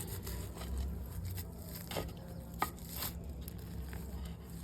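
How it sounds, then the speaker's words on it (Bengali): Soil being loosened and dug around the base of a potted bougainvillea plant with a hand tool, soft repeated scraping and crunchy jabs close up, fairly quiet. "এবার গোড়াটাকে খুঁচিয়ে নেব"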